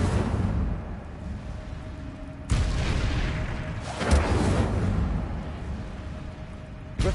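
Incendio fire spell cast in the video game Hogwarts Legacy on PS4, heard as loud booming, crackling blasts of fire that surge twice and rumble on continuously with no talk.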